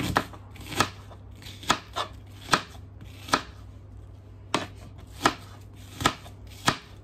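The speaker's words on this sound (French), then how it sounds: "Je coupe mes oignons" Knife chopping onions on a board while making a salt cod and vegetable broth: a dozen or so sharp, close chopping strikes in an irregular rhythm, each one distinct, with a low steady hum underneath and no talking.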